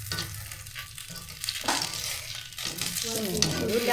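Pathiri frying in coconut oil in a pan, a steady crackling sizzle in the foreground, with brief stirring scrapes and faint talk nearby.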